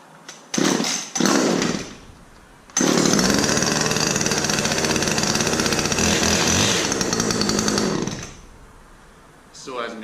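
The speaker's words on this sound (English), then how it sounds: "Saw hasn't been started for a couple of days, and what was that, 3rd or 4th pull, just goes." A Husqvarna T536LiXP top-handled chainsaw, an old saw, starts after a few pulls with brief bursts, then runs loud and close at a steady high whine for several seconds before dropping away.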